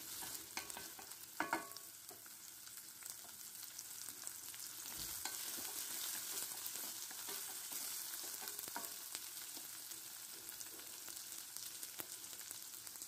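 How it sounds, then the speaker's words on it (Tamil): Chettinad chicken gravy with green chili sizzles steadily in a hot pan, with occasional clinks and scrapes of stirring over the constant crackle, close and fairly quiet. "சேர்த்து நல்லா ஃப்ரை பண்ணி விடுங்க"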